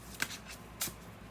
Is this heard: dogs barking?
no